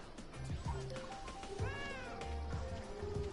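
A cat meows near a group of people playing Monopoly, a short drawn-out call that rises and falls, with chatter and background noise going on around it at a moderate level.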